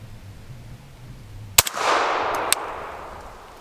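A single sharp shot from an AR-15 with an 11.5-inch BCM barrel, fired at about 30 yards, followed by a quick metallic ping from a steel target and a second faint clank, with steady outdoor background noise.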